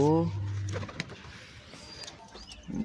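A pigeon gives a single low, resonant coo at the very start, close and clear. Quieter outdoor background follows, with a few faint chirps.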